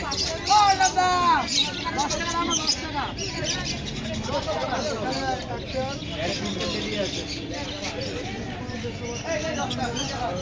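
Busy indoor pet bird market din with many small birds chirping and tweeting over a steady crowd murmur and people talking nearby.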